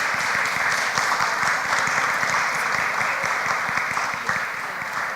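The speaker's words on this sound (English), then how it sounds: "a round of applause for our candidates" An audience at a League of Women Voters candidates forum in New Britain claps steadily for the candidates, a dense, even round of applause with faint voices underneath.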